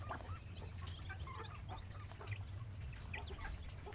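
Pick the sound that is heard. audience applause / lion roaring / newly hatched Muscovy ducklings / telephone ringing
newly hatched Muscovy ducklings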